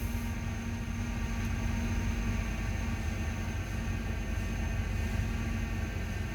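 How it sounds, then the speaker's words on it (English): A Honda Accord engine idles steadily, a continuous loud hum with a fixed whine running throughout, unchanging and close, with no speech. "let's start the engine."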